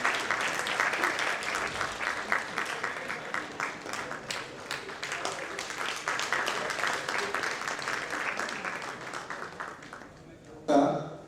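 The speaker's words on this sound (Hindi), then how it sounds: "जोरदार तालियां बजाएं तो।" Audience applause fills a hall at a 2016 book launch and mushaira, steady dense clapping sustained for about ten seconds before tapering off, with a brief louder burst near the end.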